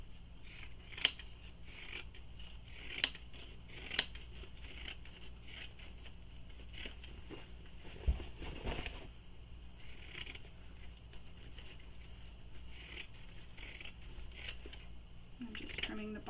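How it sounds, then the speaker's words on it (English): Scissors trim the bottom fabric seams of a sling pack, giving soft, close snips and rasping cuts at irregular intervals, quiet and intimate, with faint talk at times. "I'm just trimming the bottom seams."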